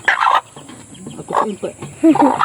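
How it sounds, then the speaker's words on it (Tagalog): A hen's brood of chicks peeping in a backyard: a few short bursts of chirping spread across the moment, then a closer, busier cluster at the end. "Tapos ito mga kabakyard yung kanyang mga sisiw."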